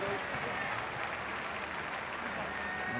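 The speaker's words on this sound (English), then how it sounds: "as always, get warm applause" Warm crowd applause in a rugby stadium in Japan during a Māori All Blacks match, a continuous distant roar of clapping and cheering with a commentator's voice over it.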